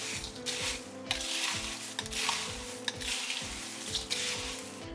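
Puffed rice chivda (murmura) being stirred in a hot pan gives a sizzling, rustling hiss in repeated sweeps, with a steady tonal pattern running underneath throughout.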